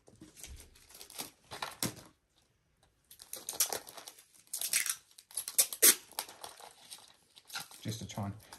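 Duct tape is torn and wrapped around a homemade geocache container, giving bursts of crinkly ripping and rustling at close range, broken by short pauses, with a person talking at intervals.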